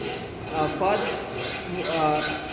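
A hacksaw cuts through a piece of wood at a marked line, giving close, steady rasping strokes in an even back-and-forth rhythm with no pauses.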